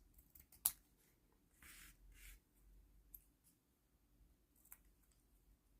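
Scissors trim excess paper from a small micro-journal page, a few soft, scattered snips and rustles heard close and quiet against a near-silent background.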